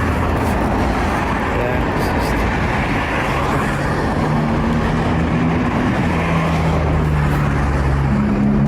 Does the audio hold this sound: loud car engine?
yes